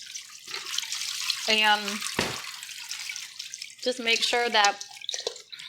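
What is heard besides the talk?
rinsing eggplant under running tap water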